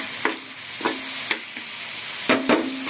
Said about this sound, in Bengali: আমি মাছটা ঢেলে দেবো, চিংড়ি মাছটা। নাড়িয়ে দেবো।